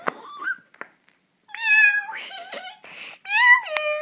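A kitten meows several times in a row, high and bright, some calls short and others drawn out, close and alone with brief pauses between them.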